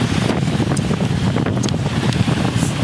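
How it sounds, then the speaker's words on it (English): Steady wind buffets a microphone outdoors, a loud, continuous low rumble with gusty roughness throughout and no talking. "It's a little windy out there."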